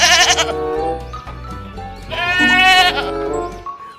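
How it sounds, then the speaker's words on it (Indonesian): A goat bleats loudly and close by, two long wavering calls separated by a short pause, with no talking over them. "Ini adalah kambing."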